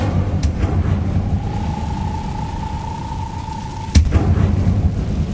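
A fire spell cast in Hogwarts Legacy gives a sudden whooshing burst near the end, over a steady rumbling game ambience with a faint sustained tone.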